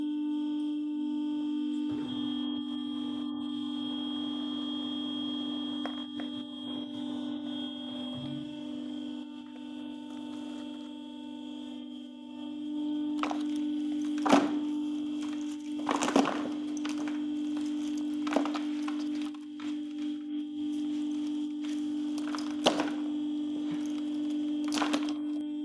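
A laboratory test press pressing on one side of a crooked sample, with a steady electrical hum throughout and, in the second half, sharp cracking snaps and creaks at irregular intervals, close and unaccompanied by talk.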